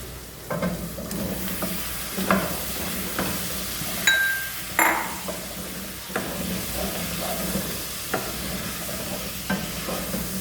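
Potatoes are tipped into a frying chicken soup base and stirred, giving a steady sizzle with scraping stirs and a few clinks of a utensil against the pot. No one speaks.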